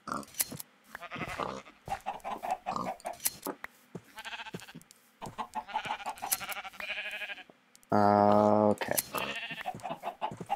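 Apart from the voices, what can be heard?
sheep bleating in the video game Minecraft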